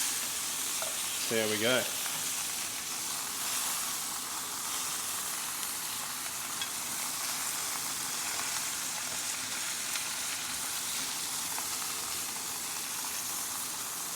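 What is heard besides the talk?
eye fillet steak searing in a pan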